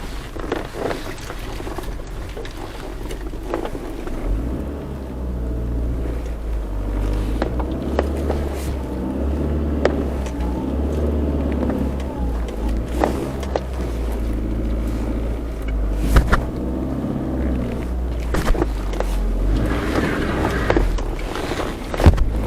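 A Hyundai Getz running on LPG accelerates hard, its low engine drone rising and holding under steady wind and road rumble, with occasional knocks and bumps from inside the cabin.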